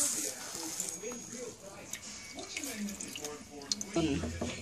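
Water poured into a cooking pot of red and white rice to measure it, a soft trickling splash close by, mixed with kitchen clatter while people talk.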